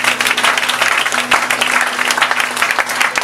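A church congregation bursts into sustained applause, dense and loud clapping from many hands filling the room evenly, with a faint musical tone held underneath.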